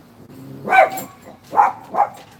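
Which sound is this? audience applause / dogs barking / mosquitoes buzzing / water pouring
dogs barking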